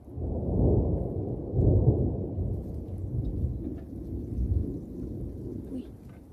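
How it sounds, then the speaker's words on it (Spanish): Deep rumbling thunder rolls in long waves over a steady hiss of rain, loud and close, with no clear speech. "unos ruidos de truenos"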